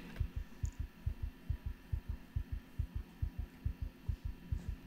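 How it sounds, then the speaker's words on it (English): Heartbeats pulse in a ghost-hunting video game, a steady, fast, low double thump repeating about three times a second over a faint hum, quiet and alone. "Because I'm hearing heartbeats."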